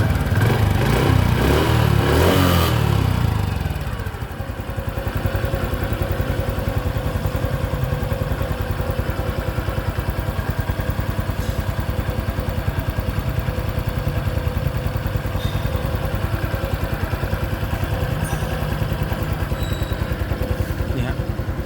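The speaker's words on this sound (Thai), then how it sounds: "เดี๋ยวมาฟังเสียงคลาสดูนะครับ" A Honda Wave 110i motorcycle engine idles steadily and close, a smooth even putter that runs throughout after a louder burst of noise at the start.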